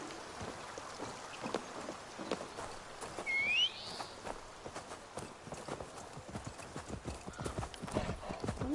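Steady clip-clop of horse hooves walking at a regular rhythm in Assassin's Creed Valhalla, fairly quiet, with a brief synthetic whoosh partway through.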